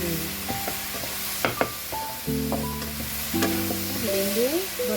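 Green beans stir-fried with soy sauce in a pan, a steady loud sizzle with scraping stirs throughout, and tonal beeps or chimes overlaid in bursts.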